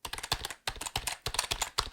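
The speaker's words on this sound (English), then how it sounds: "I'm not going to go too long using this keyboard, but I want to see how it sounds" A computer keyboard is typed on while it rests on a surface: fast, close, clattering keystrokes in uneven bursts with brief pauses between runs.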